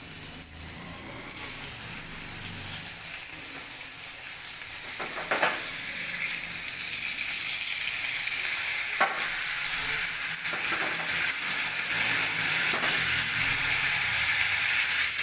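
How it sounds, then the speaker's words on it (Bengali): Eggplant fries in hot mustard oil in a wok with a constant loud sizzle, broken by a few brief sharp stirring or turning clatters. "এবার আমি বেগুনটা ভেজে নেব।"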